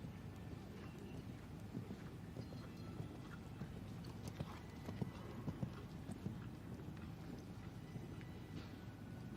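Horse hooves canter across a dressage arena at a Grade V para dressage championship: quiet, distant, rhythmic hoofbeats thud steadily over soft wind and faint background murmur.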